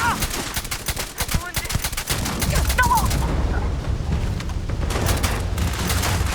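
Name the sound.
gunfire in Starfield video game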